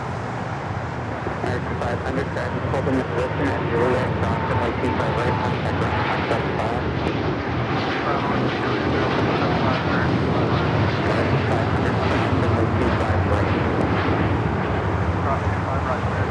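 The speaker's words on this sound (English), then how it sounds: "Next takeoff is United Airlines Flight 801 taking off to Hong Kong on the" A United Airlines Boeing 787-9 Dreamliner takes off from LAX, its steady, loud engine roar filling the whole stretch with broad rumbling noise and no break.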